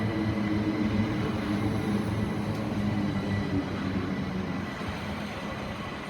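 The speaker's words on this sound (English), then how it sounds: "approaching platform 4 is your Gatwick Express to London Victoria" Gatwick Express train pulling into a platform at Gatwick Airport, a loud steady low rumble of wheels and motors that eases slightly as it slows, with no voices.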